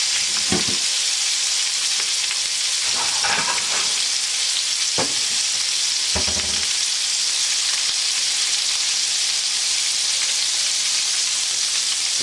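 Beef searing in a hot pan for Beef Wellington, a constant dense sizzle close up, broken by a few brief clattering knocks and scrapes of handling, with no speech.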